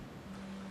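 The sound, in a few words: fish tanks bubbling in the background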